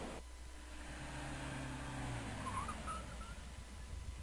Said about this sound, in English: It sounds like she's driving a race car.